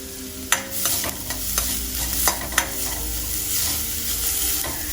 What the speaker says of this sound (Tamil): தேங்காய் வந்து கொஞ்சம் நல்லா வறுப்படணும்